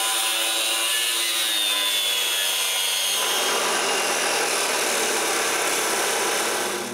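A power saw cuts metal braces for a cottage gate, making a loud, steady, rasping whine that runs without a break and roughens partway through. No voices are heard.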